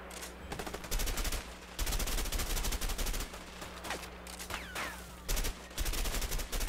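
Bursts of rapid automatic gunfire from the video game A Way Out, loud volleys broken by brief pauses during a Mexican shootout, with no one talking.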